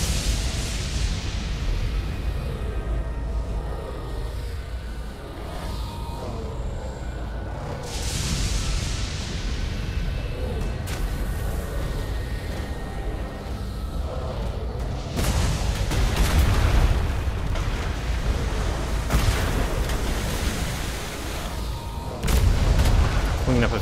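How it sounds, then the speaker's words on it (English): Ship cannons on auto fire in the naval game Sailing the Atlas boom repeatedly in heavy, irregular blasts over a rumbling background, with a voice talking at times between the shots. "all cannons are on auto fire"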